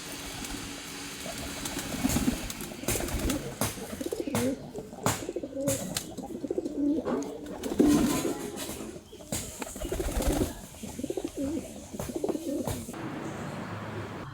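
Pigeons coo in a close, repeated, overlapping chorus as they are fed, with soft rustles and shuffles between the calls and no voices.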